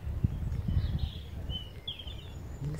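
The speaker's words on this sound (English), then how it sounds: "Listen to that beautiful bird song." Faint, thin bird chirps and brief song phrases drift in from a distance on Killiney Hill on a fine day, over low rumbling wind and handling noise.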